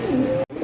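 A Baghdadi pigeon gives a short, close, resonant coo, broken by a brief gap before the call resumes.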